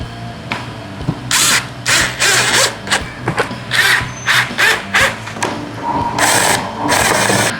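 Power driver spinning screws in bursts to mount speakers on a 2024 Harley-Davidson CVO Street Glide, loud close whirring pulses of varying length separated by short pauses.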